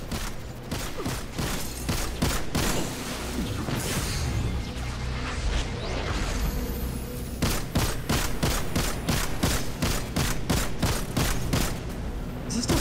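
Rapid bursts of gunfire in the video game Destiny, a dense stream of shots with sharp repeated cracks, a short lull mid-way, then another run of evenly spaced loud shots.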